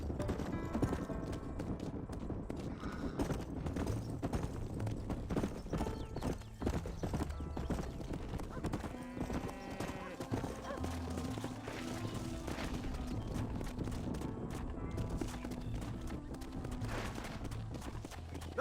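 Steady clip-clop of horse hooves from the video game Red Dead Redemption runs throughout, driving forward in a busy game mix with occasional whinnies and a music bed underneath.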